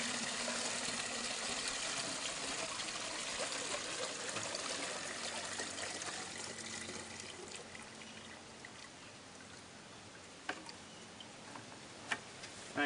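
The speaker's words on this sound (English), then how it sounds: "we pour the remaining liquid through the fly screen" Weed tea liquid pours through a fly screen in a steady, continuous trickling stream, loud at first and gradually easing, with a few small ticks and drips toward the end.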